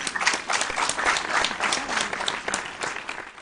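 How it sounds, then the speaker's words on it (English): A school quiz audience applauds the student contestants: a lively, sustained round of many hands clapping, fairly close and even, with no pause. "Round of applause for them, please."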